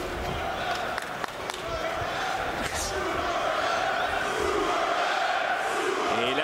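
Boxing arena crowd roaring continuously during a professional bout, a dense, loud wash of cheering and shouting with occasional sharper yells, commentators audible beneath.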